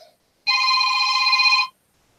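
A single burst of telephone ringing, a bright sustained electronic trill lasting just over a second, sounds close and clear in an otherwise quiet room.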